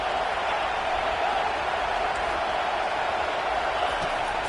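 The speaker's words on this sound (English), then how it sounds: "Decibels rising as the crowd gets behind this defense on third down." A football stadium crowd roars during a Georgia versus Oklahoma game as the defense faces third down, a dense, steady wall of cheering noise sustained throughout without pauses.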